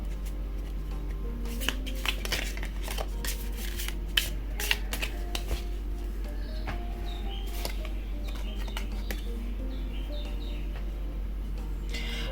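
Tarot cards being shuffled and gathered together by hand, a close series of quick papery riffles and soft slaps in irregular bursts over a steady low hum, with faint chirps in the background.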